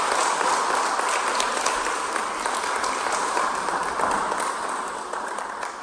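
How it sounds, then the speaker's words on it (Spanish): A church congregation applauding during a sermon, dense sustained clapping from many hands that fills the room steadily and tapers slightly toward the end. "Dale un fuerte aplauso al Señor."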